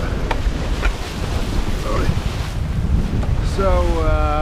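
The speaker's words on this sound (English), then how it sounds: "I've relieved the sail a little bit, so they are flappering a little bit" Sails on a slightly overpowered sailboat in the North Sea flap in strong wind, a rough buffeting roar with wave wash throughout and a person talking over it.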